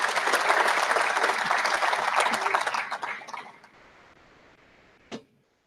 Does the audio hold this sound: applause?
yes